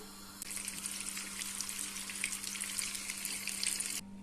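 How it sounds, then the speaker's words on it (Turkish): Butter melts in a small pan over the heat and breaks into a bright, dense sizzle that starts abruptly, stays steady and close for several seconds, then cuts off. "Kalan tereyağımı da küçük tavamın içerisine koydum. Altını yakarak eriteceğim."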